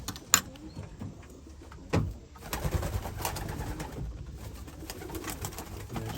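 Racing pigeons in an indoor loft, soft low cooing from several birds with a sharp knock near the start and rustling and shuffling sounds building later.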